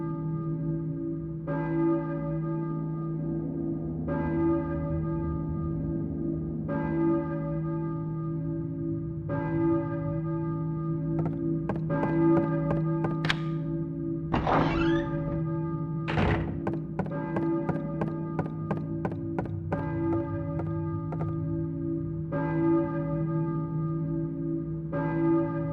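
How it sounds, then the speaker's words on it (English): A church bell tolls steadily in a video game, one ringing strike every few seconds over a low droning background, with a few dull thuds and knocks in between. "I hear a church bell, I think."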